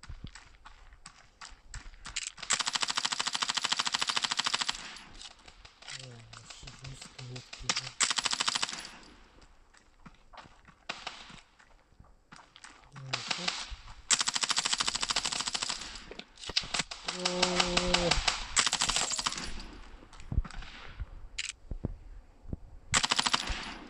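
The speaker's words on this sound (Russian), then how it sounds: "Что за стрельба такая?" Long bursts of rapid automatic gunfire in the video game Standoff 2 alternate with shorter pauses and scattered single shots, loud and continuous in stretches.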